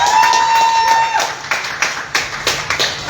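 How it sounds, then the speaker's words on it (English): Applause at an open mic poetry and music night in Orlando, with scattered, uneven clapping from a small audience that thins into separate bursts of hands, close and fairly loud. "so give yourself a round of applause."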